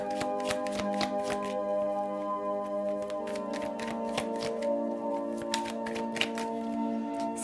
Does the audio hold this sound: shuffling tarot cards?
yes